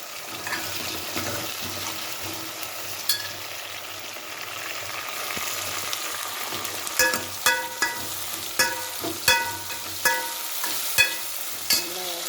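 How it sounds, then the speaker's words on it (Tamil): Tomatoes frying in a pan for vathal kuzhambu, a steady sizzle running throughout with a string of sharp scraping stirs and taps growing more frequent toward the end, close and moderately loud with no talk. "ரெண்டு தக்காளியை போட்டுக்கோ போட்டு நல்லா வேகட்டும்"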